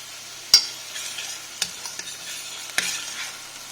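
Finely cut shallots sweat gently in a pan over medium heat with a soft, faint sizzle, broken by a few sharp clicks and taps of stirring.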